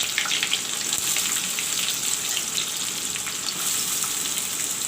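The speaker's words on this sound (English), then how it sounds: "Now in the same oil I will fry the onions." Onions fry in hot oil, a loud, continuous hissing sizzle with fine crackles that stays even from start to finish, with no voices.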